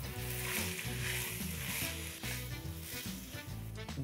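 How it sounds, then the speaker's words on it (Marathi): Carrots, corn, cauliflower and green beans sautéing in a pan for pulao, a steady loud sizzle with rhythmic stirring scrapes running throughout, no talk. "सगळ्या भाज्या ह्या परतून घ्यायच्या आहेत."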